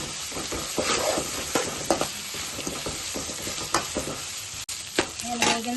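Ginger garlic paste sizzles in a pan with capsicum pieces for egg noodles, with a spoon scraping and stirring in repeated close strokes over a steady fry.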